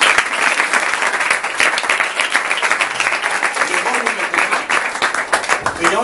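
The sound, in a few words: church congregation applauding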